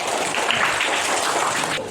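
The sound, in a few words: class applauding everyone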